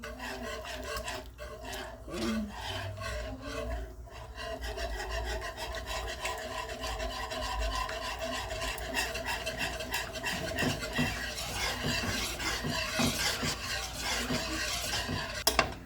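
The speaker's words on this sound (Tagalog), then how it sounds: "Hanggang sa mag-melted siya, halo lang natin." A spoon scrapes and stirs a thick potato scallop mixture with cheese in a pan until it melts, making continuous rubbing, rasping strokes close up with a faint sizzle underneath.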